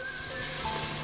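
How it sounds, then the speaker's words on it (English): Onions frying in hot oil in a pot for chicken noodle soup give a brief, steady, even sizzle with no speech. "Onions, I'm gonna toss some onions in there."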